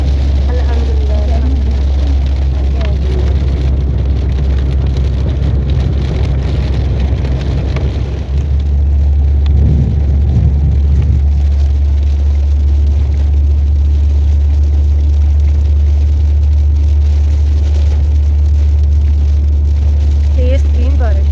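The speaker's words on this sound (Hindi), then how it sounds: "मदीना में जाते हुए तेज तीन बारिश।" Heavy rain drums on a moving car on the road to Medina, a steady dense hiss over a loud, constant low road and engine drone that fills the whole stretch.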